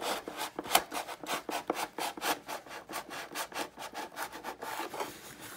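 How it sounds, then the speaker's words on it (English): Hacksaw blade worked by hand to cut into a hard-to-reach spot during a turbine conversion of a Freewing Zeus model jet, giving a steady run of close, rhythmic rasping strokes, about two to three per second, with no talking. "Then I'm going to go in there with a hacksaw blade because I just can't reach it."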